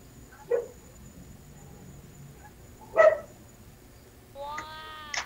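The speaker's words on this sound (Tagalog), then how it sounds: "May aso kasi ra." A dog gives a few short, sharp barks, scattered and moderately near, against quiet room noise, with a brief higher whine or squeal at the end.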